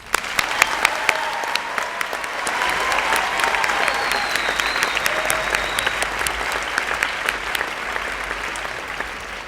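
Sustained applause from a large crowd at a school moving-up ceremony for graduates, steady and dense clapping filling the space for several seconds with a few scattered whistles on top.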